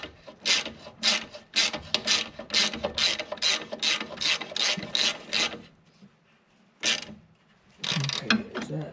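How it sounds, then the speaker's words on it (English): Torque wrench ratchets in a rapid run of sharp clicks while tightening the front strut bolts on a Subaru Forester, followed after a brief pause by a few more clicking bursts, close and distinct with no talk. "then we'll use the torque wrench"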